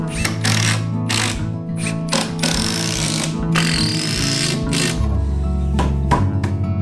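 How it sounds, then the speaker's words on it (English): A power driver sinks long screws through the side of a storage shelf in the corner of a Japanese veranda (engawa) under renovation, a loud, steady motor whine with ratcheting bursts and short pauses, close by. "I'll screw it down directly from the side with long screws."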